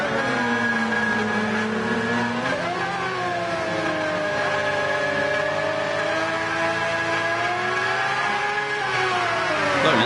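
Formula-style race cars in a racing video game scream off the start line at Spa-Francorchamps, several engines revving and rising in pitch together, loud and continuous with gear-change dips throughout.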